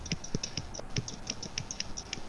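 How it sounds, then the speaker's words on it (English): Typing on a computer keyboard, a quiet, fairly quick series of light key clicks in an uneven rhythm with no one speaking. "are you typing again?"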